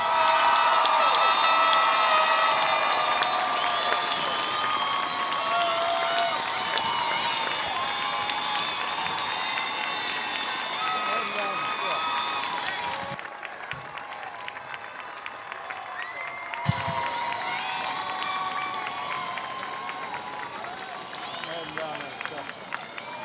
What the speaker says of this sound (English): can we have another round of applause for the graduating class of 2023?